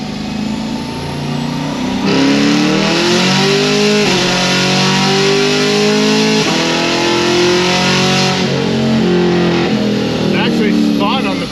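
A stage 3 C6 Corvette Z06 roars through a hard transmission rip, its engine revving up and down in repeated loud, climbing sweeps with gear shifts, close and sustained, with speech mixed over the engine.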